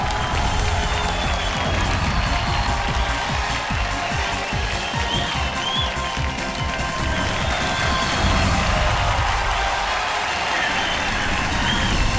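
A studio audience on the KBC quiz show gives sustained, loud applause with cheering to welcome Sindhutai Sapkal to the set, a dense, unbroken wall of clapping.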